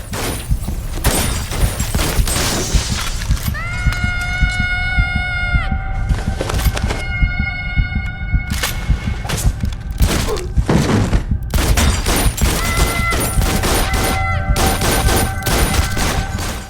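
Rapid bursts of handgun and rifle fire in a close-quarters indoor shootout in a German wooden house, with a Glock 17 among the weapons, loud and dense with thuds, splintering and ringing tones between shots.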